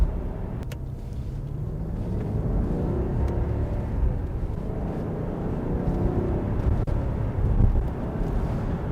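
A 2004 Maserati Spyder Cambiocorsa pulls away on the road, a low engine drone building under wind and road noise, heard from inside the cabin with a few faint clicks.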